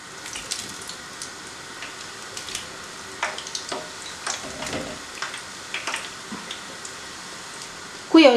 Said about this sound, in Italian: vado a friggere un po' per volta le ciambelline